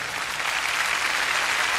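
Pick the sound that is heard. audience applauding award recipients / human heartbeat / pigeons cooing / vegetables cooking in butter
audience applauding award recipients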